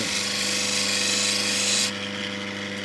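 A lapidary grinding wheel cuts a natural Ethiopian opal under running water, giving a steady, loud whirring grind with a high hiss that drops away sharply near the end while the motor hum carries on.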